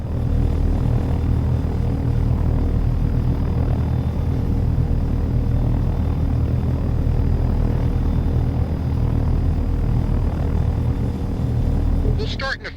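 Helicopter engines running in the flight sim Take On Helicopters, a steady loud rotor and turbine drone with a constant low hum filling the whole stretch, with speech tagged in the mix.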